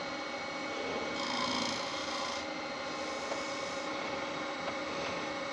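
A woodturning tool cuts into holly on a lathe, giving a steady, continuous rasping scrape that runs unbroken and fairly faint throughout, with a slight swell near the start.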